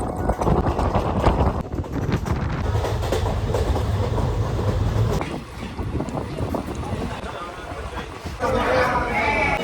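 A passenger train on the Krishnanagar–Azimganj line runs along the rails with a loud continuous rumble and heavy wind buffeting that eases briefly midway, with voices mixed into the noise.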